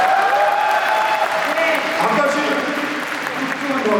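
Crowd cheering and applause at a Rebuilding Korea Party national members' convention in Cheongju fills the hall steadily throughout, loud and dense, with a voice speaking over it.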